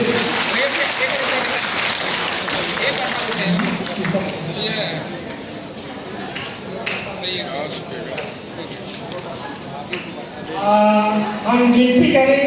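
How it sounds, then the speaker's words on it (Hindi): An audience at an outdoor Lota Pani engagement ceremony claps together in a steady burst of applause, while voices and chatter continue over it. "सभी लोगों से अनुरोध है कि एक बार ताली बजा दीजिए।"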